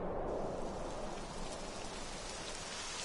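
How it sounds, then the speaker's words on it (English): Steady rain falls in the video game Dragon Quest XI, a dense even hiss of drops on surfaces with no pauses or talking. "It would have to go and start raining, wouldn't it?"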